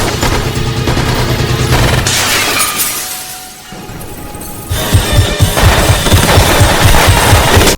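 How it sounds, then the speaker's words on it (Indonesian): Gunfire in a Resident Evil film: loud, dense crashing volleys with shattering, glassy impacts, a brief lull midway, then rapid repeated shots resuming. "salah satu pasukan itu berhasil menembak Alice dari belakang"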